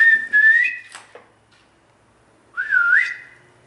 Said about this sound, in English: that whistle was so prominent again